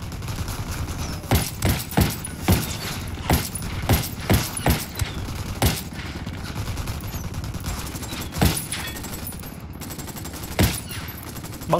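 Rapid bursts of gunfire from a tactical shooter set in Bolivia, with sharp shots at irregular intervals that are loud and close over a steady background hum. No one speaks.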